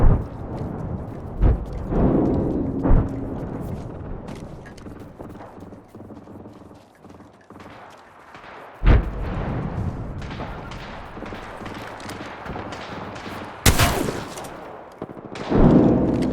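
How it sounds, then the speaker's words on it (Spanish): Gunfire and a grenade explosion in a video game: sharp, loud blasts stand out near the start, middle and end, with bursts of shots over a steady game background. "Lanzando granada."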